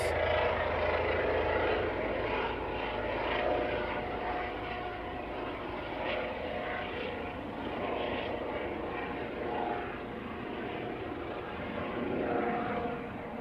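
A plane departing Manchester Airport roars steadily at a distance, a broad sustained engine rumble with slight swells across the whole stretch and no voices.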